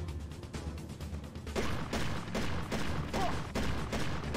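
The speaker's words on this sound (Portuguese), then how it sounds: "Tiro duplo, tira muita energia." Repeated bursts of gunfire from the video game Dead to Rights on PSP, sharp blasts landing roughly every half second to second in a rapid, uneven volley.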